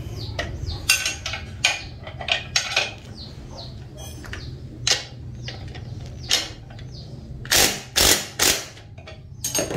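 Repeated metallic ratcheting clicks in quick bursts, with sharp clanks and rattles of a tool tightening a bolt on a Yamaha RX-King swingarm bearing, fairly close and loud.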